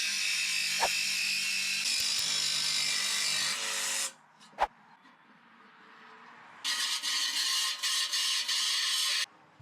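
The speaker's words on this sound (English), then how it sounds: "use a metal cutting blade in the jigsaw" A jigsaw fitted with a metal cutting blade cuts an opening in metal, running in two loud buzzing stretches separated by a quiet gap with a single sharp knock.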